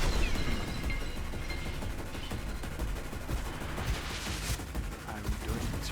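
Airship Gatling gun in the Lithium City video game firing a continuous, dense rattle of rapid shots that stays loud throughout, with no talking.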